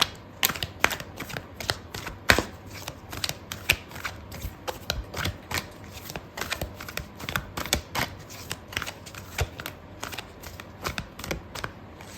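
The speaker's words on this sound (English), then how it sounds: "I'm going to pull out a card for your advice" Tarot cards being shuffled and drawn, with a steady run of crisp, close riffling snaps and flicks lasting about twelve seconds and no talking.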